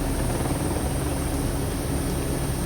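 A rescue helicopter makes a continuous, loud roar of rotor and engine with no break, heard during flood rescues near Cachoeiro.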